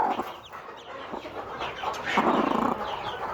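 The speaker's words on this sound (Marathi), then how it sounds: "हे बघा हे कोंबडी आहे हे बघा" Native country hens cluck continuously in a busy, noisy coop on a poultry farm, with overlapping calls and a steady background din, no talking.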